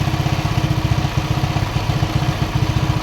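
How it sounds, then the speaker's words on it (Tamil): A motorcycle engine idles steadily close by, a continuous low thumping with an even pulse and no talk over it, while the charging regulator is being checked on the bike. "இப்போ வண்டி ஸ்டார்ட் பண்ணி பார்த்துட்டு"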